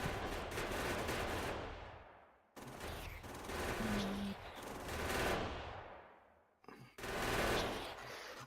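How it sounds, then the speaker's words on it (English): Video game gun turrets firing in long sustained bursts, rapid rattling volleys that cut off abruptly, pause briefly, then resume loud and close. "Our turrets are overpowered."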